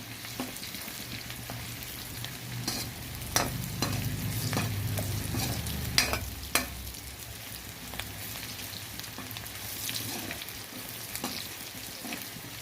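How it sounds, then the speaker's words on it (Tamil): Onions sauté in a pan for a fish curry, giving a steady close sizzle with intermittent sharp scrapes and clanks of a spoon stirring, and no talking. "இன்னும் கொஞ்சம் வெங்காயம் வதங்கட்டும்"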